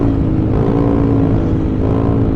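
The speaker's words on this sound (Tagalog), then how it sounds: "Maingay lang talaga tambutso ko." A loud motorcycle exhaust drones steadily while riding along a road past a power plant, a close, continuous low rumble with a held engine note and no voices.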